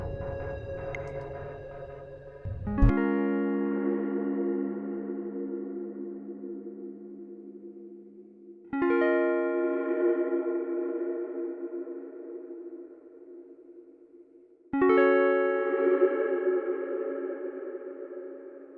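A synth tone with layered harmonics from a synthesizer preset with guitar effects, struck three times, each swelling and sustaining several seconds before the next hit, without talk.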